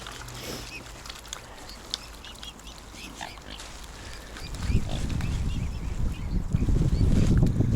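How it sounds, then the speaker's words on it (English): Swans, coots, moorhens and ducks gather on a canal, with scattered honks and calls close by over an outdoor background whose low rumble swells in the second half. "Swans, coots, moorhens, ducks."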